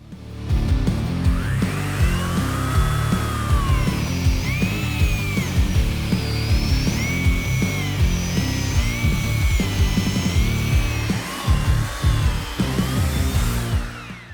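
An electric chainsaw rated 2800 W runs continuously and loudly for the whole stretch, a harsh motor drone with rising and falling whine as it bites into a wooden log 27 cm in diameter.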